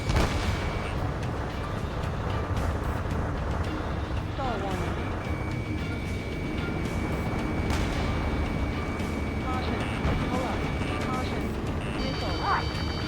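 Ace Combat 7 battle sounds with sustained gunfire and heavy rumbling engines as a vehicle is attacked, loud and continuous, under radio chatter and talk.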